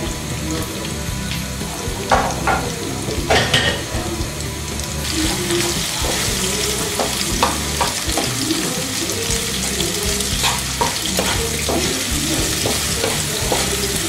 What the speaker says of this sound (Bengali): অল্প একটু লবণ দিয়ে দিব যাতে পেঁয়াজগুলো তাড়াতাড়ি বেরেস্তা হয়ে যায়